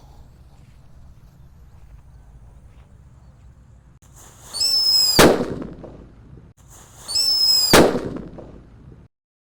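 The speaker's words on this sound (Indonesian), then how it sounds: "ini penutupnya ada mercon Happy Power 3 guys. Kita nyalakan." Two Happy Power 3 firecrackers each hiss with a rising fizz and then burst in a single sharp, loud bang, a few seconds apart against a quiet background.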